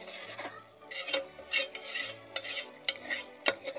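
A spoon stirs aloo methi around a pan, scraping and clinking against the metal in uneven, repeated strokes while the mixture bubbles softly, close and fairly quiet.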